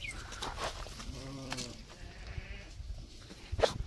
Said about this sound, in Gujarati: તો પ્રકાશભાઈ આ બકરાને વાગેલું છે ને તો ટ્રીટમેન્ટ ચાલુ કરી દીધી છે જો